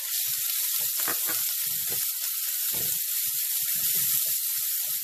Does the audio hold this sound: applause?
no